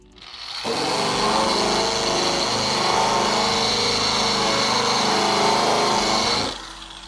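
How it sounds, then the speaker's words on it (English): A barrel sander grinds paint and old body filler off a 2011 Mustang GT fender, a steady loud whine that starts abruptly, holds for about six seconds, then winds down. "we're gonna take the rest of the paint and all this old body filler off of this fender"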